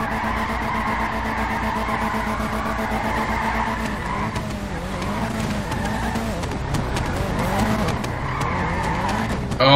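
Car drifting at a GTA 5 roleplay drift event: a steady engine roar under sustained tire squeal, with the squeal swelling and wavering in the second half as another car seems to sweep nearby, loud and continuous.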